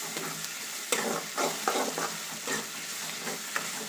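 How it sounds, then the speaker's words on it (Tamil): Onions sautéing in a pan for a crab pepper fry, close steady sizzle broken by rhythmic scraping strokes of a spoon stirring every half second or so, no voices. "நல்லா வதக்கிக்கலாம் ஒரு மூணு நாலு நிமிஷம் நல்லா வெங்காயத்தை வதக்கி எடுத்துக்கலாம்"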